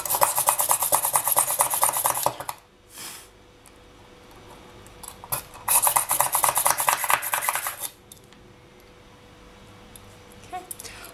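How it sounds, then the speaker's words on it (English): Push drill boring a hole through a polymer clay earring piece, two bursts of rapid scratchy rasping, each roughly two seconds long, close and fairly loud with quiet handling noise between them. "So now we are going to get on to drilling. So I've got this push drill."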